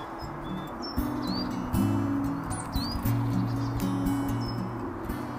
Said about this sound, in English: The birds are feeding heavy in preparation for nesting.